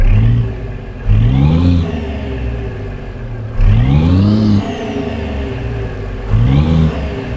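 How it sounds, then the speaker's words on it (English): Simulated Peterbilt 389 with a Big Cam Cummins engine in American Truck Simulator, a loud, close diesel roar revving up through repeated gear pulls, each climb rising then dropping back, with no talk. "Like this big cams engine of ZMods."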